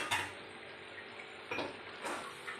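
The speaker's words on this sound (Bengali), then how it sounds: "তারপরে ভালো করে এগুলোকে একসঙ্গে সব মিশিয়ে নেব।" A cracked egg, ground black pepper and arrowroot are stirred together in a bowl for chili chicken, with a few distinct clinks of utensil against bowl over a quiet, steady kitchen background.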